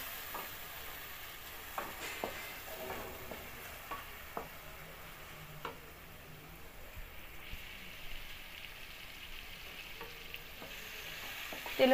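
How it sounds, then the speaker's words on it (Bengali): Chopped onions fry in oil over medium heat, a soft, steady sizzle with occasional faint clicks and taps of a utensil, quiet and close throughout. "তেলের মধ্যে সম্পূর্ণভাবে পেঁয়াজটা ভেজে নিতে হবে মিডিয়াম আঁচে।"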